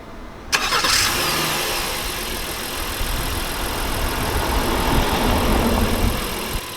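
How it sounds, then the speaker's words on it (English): A 2017–2019 Honda Pilot is remote-started with its key fob. After a short quiet moment the engine cranks and catches, then settles into a loud, steady idle that continues to the end, with no one speaking. "In order to self-start, you want to press the top lock button once, and you want to press the circular arrow and hold it."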